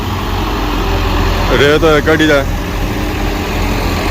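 Tractor engines run steadily while hauling sand in a long line of tractors, a continuous low rumble with a person talking over it.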